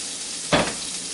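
Summer sausage and onions browning in a pan give a single short sizzle-and-stir burst over a quiet background hiss.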